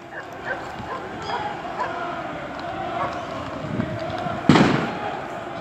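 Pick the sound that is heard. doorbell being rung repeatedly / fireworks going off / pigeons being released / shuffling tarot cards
fireworks going off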